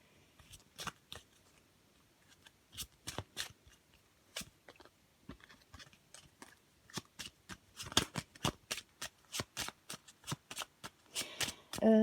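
Lenormand oracle cards shuffled by hand close up, with quick uneven bursts of papery riffles and slaps throughout, otherwise quiet.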